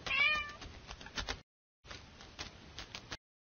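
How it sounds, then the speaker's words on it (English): A domestic cat meows repeatedly in two short bursts with a brief silence between, fairly close and clear, with no talking. "Cat."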